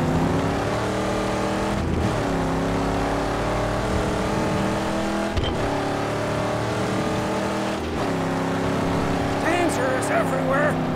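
A car engine in the Mad Max video game on PS4 drones loud and steady for the whole stretch, its pitch rising and falling as the vehicle drives, with someone talking over it in places.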